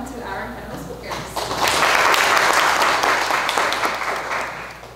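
Audience applause for speakers at a panel discussion on democracy, starting quietly and then swelling into steady, dense clapping that fills the room and holds for several seconds.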